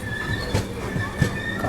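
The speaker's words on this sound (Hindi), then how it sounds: "अब करीबन 15 मिनट रुकने के बाद अपनी ट्रेन खुल चुकी है जोलरपेटाई जंक्शन से" The Pune Kanyakumari Express pulls out of Jolarpettai Junction, a loud, continuous rumble of rolling wagons with faint rhythmic wheel clatter and a thin squeal running through it.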